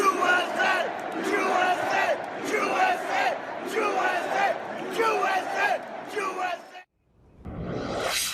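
A rally crowd at a Trump event in Arizona chants in loud rhythmic bursts, voices massed and shouting together, then breaks off into a brief silence before noise swells again.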